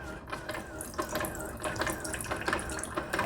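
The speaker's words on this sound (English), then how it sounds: "We got hot water going into the cup now" Hot water from a Keurig V600 coffee maker streams steadily into a cup, a close, quiet trickling and splashing with small mechanical clicks underneath.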